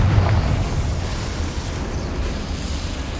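A Confringo spell explosion in Hogwarts Legacy gives a deep rumbling blast with a sharp onset, then a sustained low roar that fades slowly, with no talk during it.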